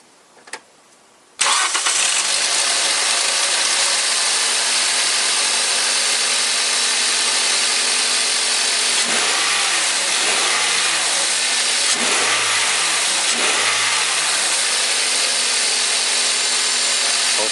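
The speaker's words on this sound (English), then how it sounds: "And then I start the engine, and we test that what happens next." A Toyota Corolla engine cranks and catches after its mass air flow sensor is cleaned, then runs steadily at a loud, even idle with a few brief revs.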